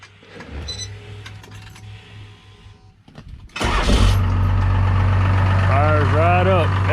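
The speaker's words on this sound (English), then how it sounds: "I'll just crank it up, kind of do a walk around, let y'all hear it" A Cummins diesel in a Squarebody truck cranks briefly and fires up around the midpoint, then settles into a loud, steady, rumbling idle up close, with a short quiet stretch before the start.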